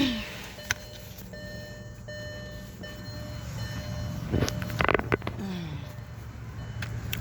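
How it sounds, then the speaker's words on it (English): A parked car gives a few faint electronic beeps, thin high tones spaced across several seconds, over low outdoor rumble with a brief louder clatter partway through. "My car's gonna beep."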